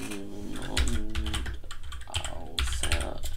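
Computer keyboard typing, a steady run of close, quick clicks and clacks that goes on for a few seconds with no voices over it.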